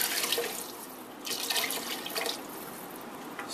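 Vegetable broth and water pour steadily into a pot for soup, a continuous splashing, gurgling stream that swells and eases slightly as the liquid falls.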